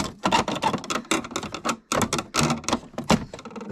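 Vintage Brother Deluxe typewriter being handled, its keys and carriage producing rapid, loud mechanical clacks in dense bursts with brief pauses, close up and with no voices.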